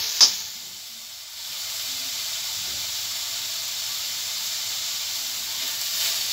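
Onion frying in a pan for wheat leaf soup gives a steady, even hiss of sizzling after a brief clink at the start, close and continuous with no voices.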